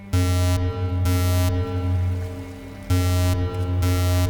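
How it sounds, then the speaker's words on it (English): A loud electronic alarm blares in repeated bursts, with steady tones and sharp high pulses stopping and starting in an on-off rhythm, close and harsh. "So we heard this alarm ringing."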